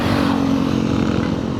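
Motorcycle engine runs loud and close on a ride from Bulacan to Antipolo along Marilaque, a dense continuous drone with a steady throb and no voices.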